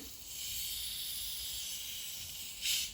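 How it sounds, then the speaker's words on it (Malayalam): Soda water fizzes softly as it is added to an orange drink, a faint, steady hiss that swells briefly near the end. "അപ്പോൾ സോഡ വാട്ടർ കുറച്ച് ചേർത്ത് വെക്കാം"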